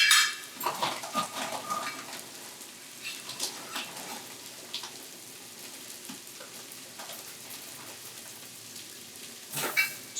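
Rice is measured by the cup into a pot for Cajun jambalaya, with scattered clattering of grains and utensils against the pot over a faint background hiss, close and fairly quiet, and a sharper clatter near the end.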